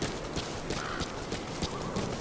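Horse hooves clip-clop at a steady trot in Metal Gear Solid V, a rhythmic run of close, moderately loud hoof strikes over a busy game soundscape with no talk.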